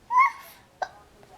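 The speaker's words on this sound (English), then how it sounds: "You have the hiccups." A young girl hiccups, one sharp hiccup followed by a second short catch a moment later and a faint third, close by in a quiet room, with a small vocal sound at the start.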